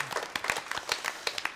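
A congregation claps during a Sunday worship service at a church, with sharp, distinct handclaps in a loose, uneven rhythm, fairly close and lively.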